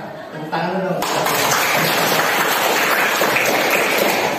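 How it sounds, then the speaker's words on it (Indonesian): A classroom of students breaks into sustained applause, a dense wash of clapping that starts abruptly after a brief spoken lead-in and continues loudly to the end. "Kita tepuk tangan dulu."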